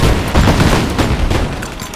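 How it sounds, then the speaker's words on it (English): Rapid cluster of game explosions from a cluster bomb in Rise of the Tomb Raider, a dense rolling barrage of booms and crackling bursts lasting about two seconds, loud and continuous with a slight fade at the end. "Now that cluster bomb."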